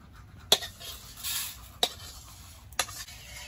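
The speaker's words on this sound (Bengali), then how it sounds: "মুগ ডালটা শুকনো খোলায় ভেজে নেব, সঙ্গে দিয়েছি 2-3টে তেজপাতা, সব একসঙ্গে ভেজে নেব।" Mung dal being dry-roasted with two or three bay leaves in a dry pan, a soft rattling scrape of stirring broken by three sharp clanks of the spoon against the pan, close and clear.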